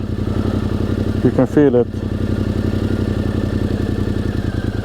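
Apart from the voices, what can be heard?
motorcycle engine running with clutch engaged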